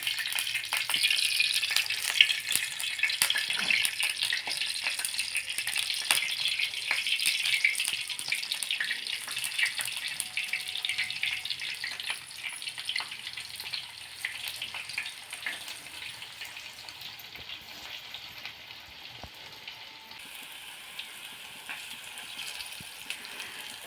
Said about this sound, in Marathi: तेल गरम झालं नंतर हे वडे आपल्याला त्याच्यात परतून घ्यायचे आहे